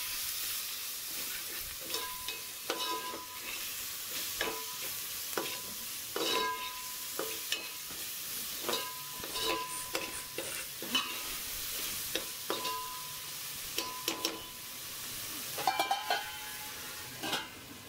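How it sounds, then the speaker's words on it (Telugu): Onions or aromatics fry in a pan seasoned with turmeric and salt while a spoon stirs and scrapes, giving a steady sizzle with repeated sharp clinks and scrapes for a gongura chicken dish. "ఆ తర్వాత కొంచెం సాల్ట్ వేసుకొని ఫ్రై చేసుకుంటున్నాను"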